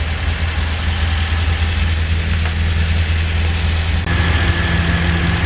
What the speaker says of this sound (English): I'm gonna rev it a little bit for a little while